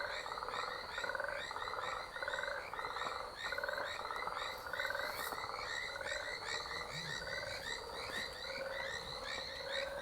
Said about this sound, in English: I think that's a frog.